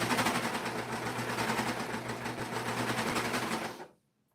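A Singer sewing machine hums and chatters steadily while stitching along the edge of a quilted sweatshirt, one continuous close run that stops abruptly before the end.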